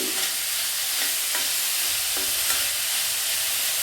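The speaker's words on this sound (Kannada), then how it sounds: "ಹಾಗಾಗಿ ಈ ತರಕಾರಿ ಒಂದು 2 ನಿಮಿಷಗಳ ಕಾಲ ಚೆನ್ನಾಗಿ ಬೆಂದ್ಕೊಳ್ಳಿ" Vegetables with capsicum sizzle steadily in a pan for vermicelli bhath, a continuous close frying hiss broken by a few soft stirring scrapes, with no voices.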